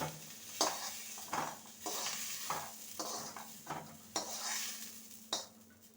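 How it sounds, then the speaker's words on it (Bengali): Spring onions sizzle softly in a pan as a spatula scrapes and stirs in repeated strokes, close and fairly quiet. "এবার পেঁয়াজ কলিটাকে দু মিনিটের মতন ভেজে নেব যাতে কাঁচা গন্ধটা চলে যায়"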